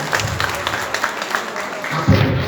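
An audience at a school fundraising merit-making ceremony claps in a brief round, with steady clapping rising slightly at the end and some voice underneath.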